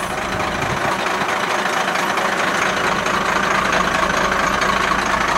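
A truck engine idling steadily close by after an exhaust leak repair, a constant rough rumble with a faint knocking texture and no voices.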